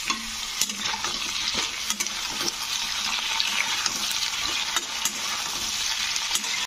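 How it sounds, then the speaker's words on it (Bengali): Potato and eggplant pieces fry in oil in a pan for a vegetarian drumstick curry, with a continuous loud sizzle and occasional sharp scrapes and clacks of stirring, with no talk over it. "বেগুনগুলো দিয়েও কিন্তু ভেজে নিতে হবে"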